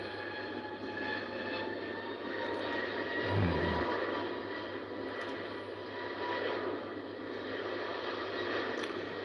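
Aer Lingus Airbus A321 jet at Heathrow airport: a distant, sustained engine roar that swells slightly and fades slowly, with a steady low hum and faint background noise.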